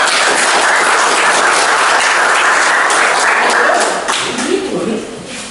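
Dense, steady clapping from a class for a student group fills the room, then tapers off toward the end as a few voices start up.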